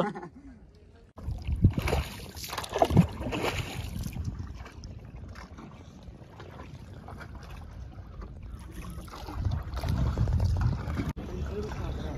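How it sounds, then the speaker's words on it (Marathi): A boat out on the water during a crab-fishing outing, heard as steady wind and water noise with low rumble and a few splashy bursts, while people talk nearby throughout. "इथं बोट आहे."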